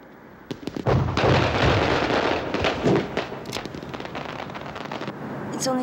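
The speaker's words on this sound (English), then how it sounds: "It's only fireworks." Fireworks go off outside at night, a rapid series of sharp cracks and booms that rumble together, fairly close and loud, with a few isolated pops toward the end.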